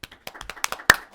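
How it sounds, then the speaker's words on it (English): A short burst of hand clapping, several quick claps from a small group, close and moderately loud. "can we get some applause"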